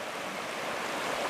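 River water flows steadily in a continuous broadband rush, close and even, with no other sounds standing out.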